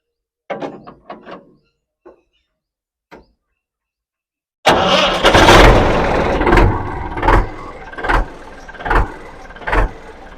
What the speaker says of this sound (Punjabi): ਥੋੜੀ ਜੀ ਤੁਹਾਨੂੰ ਟਰੈਕਟਰ ਦੀ ਆਵਾਜ਼ ਵੀ ਸੁਣਾਉਂਦੇ ਆ